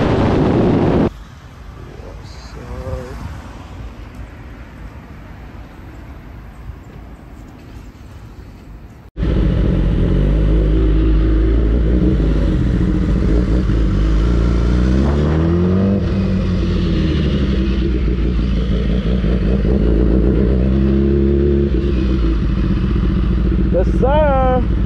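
BMW S1000RR and M1000RR sport bikes fitted with Akrapovic exhausts ride along, with wind rush at first, then a loud, close, sustained engine roar with rising and falling revs.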